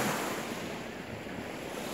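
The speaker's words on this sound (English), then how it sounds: "with like the waves in the background" Waves at a beach in Winnipeg with brown water, a continuous broadband wash of surf mixed with wind buffeting the microphone, fairly quiet and with no voices.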